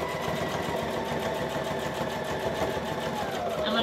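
A home sewing machine stitching a garment runs in a close, steady mechanical whir and rapid needle clatter, holding an even pace throughout.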